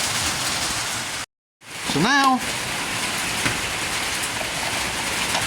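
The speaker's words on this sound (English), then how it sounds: "You know, tin roof rain." Heavy rain drums steadily on a tin roof, a dense continuous hiss that fills the whole stretch apart from a brief dropout, while someone speaks a few words over it.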